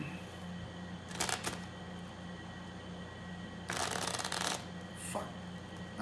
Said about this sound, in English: Now we're gonna just shuffle this and demonstrate the next.